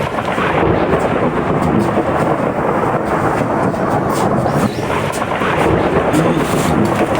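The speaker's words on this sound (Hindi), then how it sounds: "बड़ा तड़का था।" A heavy thunderstorm roars with loud, continuous rumbling thunder and rain, filling the whole stretch with a dense, steady wash of sound and no clear pauses.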